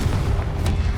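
Confringo spell blast in the Hogwarts Legacy video game, a deep, booming low rumble that fills the brief moment with a dense, close thud-like roar.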